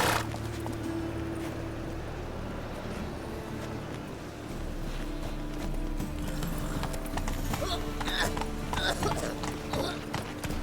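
Roach the horse's hooves clip-clop along steadily in The Witcher 3, a continuous mid-distance rhythm under game music and ambient sounds.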